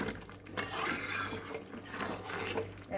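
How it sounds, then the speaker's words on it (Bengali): Cauliflower stirred with ghee in a pan gives soft, continuous scraping and rubbing of a spoon against metal, quiet and close, with no talking. "দিয়ে একটু নাড়াচাড়া করে এটাকে আমি এখন নামিয়ে নেব"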